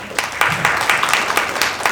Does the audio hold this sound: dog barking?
no